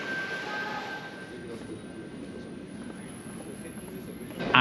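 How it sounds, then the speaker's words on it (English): An SBB train bound for Lausanne pulls away from a platform at Geneva Airport station, giving a steady, moderately loud rolling rumble with a thin whining tone and a louder swell at the very end. "The preceding train to Lausanne is just about to leave"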